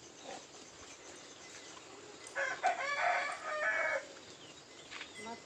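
A pet rooster that had been bitten by a cat crows once, loud and close, with a wavering, drawn-out call that rises and falls over a couple of seconds against a quiet outdoor background.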